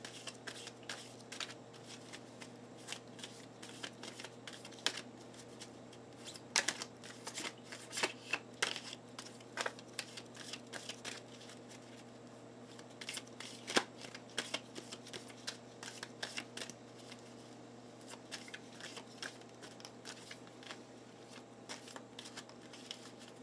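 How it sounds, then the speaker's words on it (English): Tarot cards being shuffled over and over, a steady run of quick crisp riffles and flicks close by, with a low constant hum underneath and no talking. "I feel like I should shuffle again."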